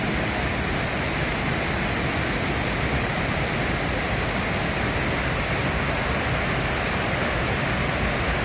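A steady, dense roar of falling water, constant and close, with broadband rushing noise and no breaks throughout.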